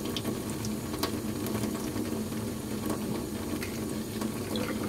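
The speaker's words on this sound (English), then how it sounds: "I like to keep my knife wet with water." Water runs and splashes over a fillet knife while a black drum is being cleaned, a steady close wash of trickling noise that continues throughout, with no voices.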